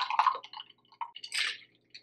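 Ice, lime, sugar and cachaça tipped from a cocktail shaker into a glass for a caipirinha: a few close, quick wet clinks and splashes, then a brief louder rush of liquid and ice settling.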